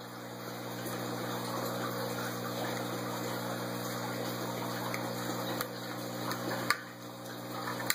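Water flows steadily through an ABS bell siphon in a continuous low rushing drain, with a faint hum and a couple of brief clicks near the end.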